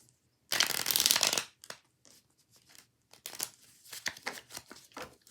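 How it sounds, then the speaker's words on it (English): A deck of playing cards is riffled in one long, close burst, followed by several shorter bridging and squaring shuffles. "I'll shuffle the cards."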